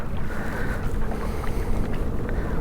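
Strong wind buffets a boat on a small river during spring walleye fishing, heard as a loud, constant rumbling rush with microphone wind noise throughout.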